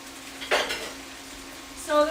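Cooked meat being scraped and moved from a frying pan into a bowl while preparing John Wayne casserole, with a short burst of utensil scraping midway and a clink of cookware near the end, close and moderately loud.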